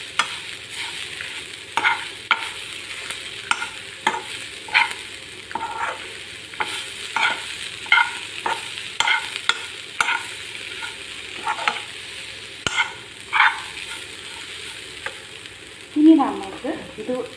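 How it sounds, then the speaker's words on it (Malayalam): Coriander leaf and curry leaf chammanthi is stirred in a hot pan just after the gas is switched off. A spoon scrapes in a steady run of repeated strokes over a faint sizzle, close by, with no one talking. "നന്നായിട്ട് ഇളക്കിയിരിക്കാം."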